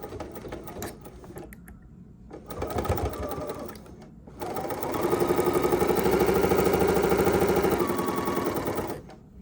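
A sewing machine stitches quilt block pieces for a four-patch, starting with short stuttering bursts, then settling into a close, steady, fast whir for several seconds before stopping.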